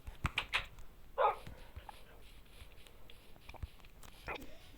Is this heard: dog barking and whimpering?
yes